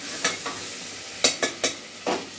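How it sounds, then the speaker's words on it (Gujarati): Potatoes frying in oil are stirred with a spatula, giving a soft sizzle under a handful of distinct scraping strokes, two early and four more in quick succession later, close and fairly loud with no talking. "બટેકાને હલાવી નાખશું, તેથી છે તે તેલ છે બધે બટેકામાં રહી જાય"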